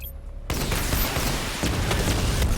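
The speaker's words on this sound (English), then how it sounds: "Missile barrage level 2 ready." Batmobile missile barrage in Batman: Arkham Knight, a dense, continuous roar of launches and explosions that starts abruptly after a brief quiet and stays loud throughout with crackling bursts.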